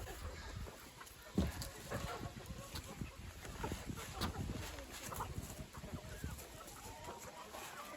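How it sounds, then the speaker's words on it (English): A black chicken and two Leghorn hens cluck softly and intermittently around a farmyard coop, faint against low background noise, with one sharper call partway through. "I'm going to try to get this black chicken and these 2 leghorns back in here."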